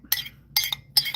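Three quick bright clinks of a china teacup as tea leaves are pushed down, spaced about half a second apart, close by in an otherwise quiet room.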